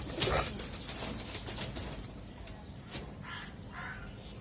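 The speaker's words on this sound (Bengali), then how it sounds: "এগুলো মাদি কবুতর সব" Female pigeons in a loft give bursts of wing flapping up close, followed by soft low cooing calls, with little else around.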